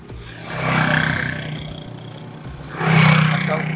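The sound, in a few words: motorcycles passing on a street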